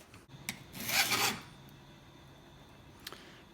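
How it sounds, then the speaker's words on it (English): A Stihl 2 in 1 Easy File rasps across a chainsaw chain cutting tooth in one short stroke, then a couple of faint light taps follow in a quiet setting. "that's sharpening the tooth, and it's also going to work on that raker as well"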